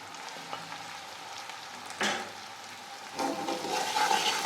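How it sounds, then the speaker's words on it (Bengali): Spice powders frying in oil in a pan for mustard rui fish curry, a steady close sizzle with a louder hiss surging twice as they are stirred, no talking. "দিয়ে একটু লাল লাল করে ভাজবো এটা"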